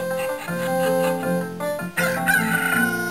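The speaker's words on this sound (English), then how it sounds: "Don't worry, the chickens won't hurt you, or cuckoos for that matter." Cuccos from Zelda: Ocarina of Time crow and cluck in a busy, layered game chorus, loud and continuous with repeated squawking calls over the music.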